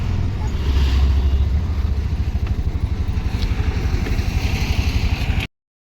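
Early-morning road traffic backed up for kilometres on a diversion, with a close, loud engine throbbing in rapid, even pulses and a steady rumble of other vehicles beneath it.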